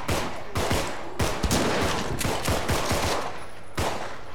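Rapid bursts of submachine gun fire from the zombie game Contagion, loud and close, with short rattling volleys and brief pauses between them, alone without talk.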